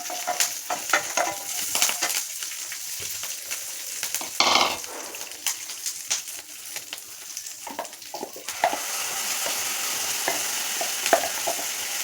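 Curry leaves fry in hot oil with a close, crackling sizzle broken by sharp spatters and scraping stirs, building to a steadier frying hiss in the latter part, with no talking.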